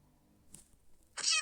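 A short, bright video game cat meow rings out near the end of a quiet moment, after a faint earlier chirp.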